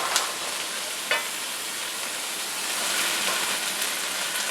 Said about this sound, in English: add the rest of your rough cut vegetables. Stir.